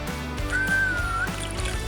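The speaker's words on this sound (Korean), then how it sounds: "숨비소리란 해녀들이 바닷속에서 해산물을 캐다가 숨이 턱까지 차올라 물 밖으로 나오면서 내뿜는 휘파람 소리입니다" A haenyeo diver, surfacing from the sea, exhales a single breathy whistle that rises and holds briefly, sounding faintly over a steady low background of water and ambient noise.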